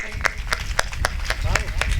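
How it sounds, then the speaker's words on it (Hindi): An audience at a religious discourse gathering claps together in a steady rhythmic beat, about four sharp claps a second, fairly close and even. "जोरदार तालियां स्वागत करेंगे"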